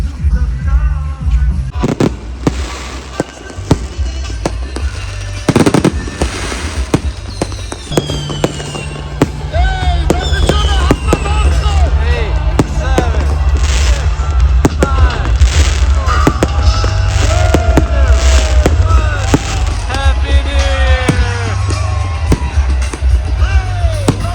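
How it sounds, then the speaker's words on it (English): Dense New Year fireworks in Mongolia crackling and booming nonstop, with whistling rockets rising and a crowd cheering and shouting beneath the loud, continuous barrage. "I think I've heard more fireworks in this one night than the rest of my life combined"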